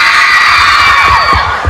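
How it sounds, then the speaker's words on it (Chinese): A crowd of fans, mostly young women, scream loudly and continuously at a fan signing event, a dense, deafening wall of shrieks with a few rhythmic claps or thumps underneath. "想念这个尖叫声吗？"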